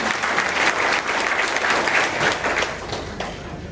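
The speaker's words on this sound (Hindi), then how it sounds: "मैं चाहता हूँ उसके लिए एक बार तालियां बजाकर" A crowd at a public meeting on sanitation and housing schemes claps together in a brief, dense burst of applause that tapers off slightly at the end.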